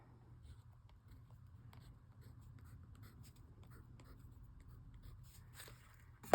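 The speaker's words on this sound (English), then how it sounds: "I've got sepia red in a Derwent drawing pencil." A Derwent drawing pencil in sepia red moving across paper in an art journal, giving a faint, close, continuous scratchy scribble with small irregular strokes throughout.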